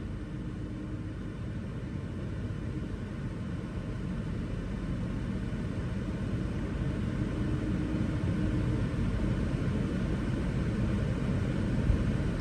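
A car engine is held at raised throttle during an air-conditioning pressure check, giving a steady, loud, low rumbling drone that stays even for the whole stretch.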